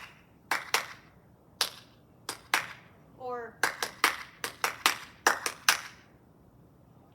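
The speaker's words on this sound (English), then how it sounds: "This clapping the rhythm is because if you're watching someone in your mind" Hand clapping beating out the rhythm of hurdle strides in a track coaching drill: a run of sharp, close claps in uneven groups, with a quick double-beat leap pattern midway and a brief spoken word at one point.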